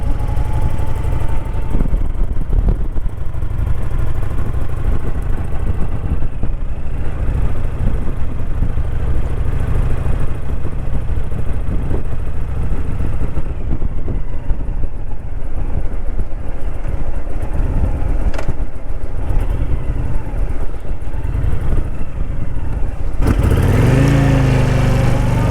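A 14-year-old motorcycle engine runs steadily and loudly for the whole stretch, a dense low rumble with no speech over it, shifting pitch briefly near the end.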